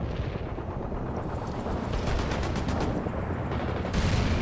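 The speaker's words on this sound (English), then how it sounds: "We're under fire!" Battle noise from the World in Conflict strategy game under attack: dense, continuous rumbling gunfire and explosions, loud throughout with rapid rattling bursts.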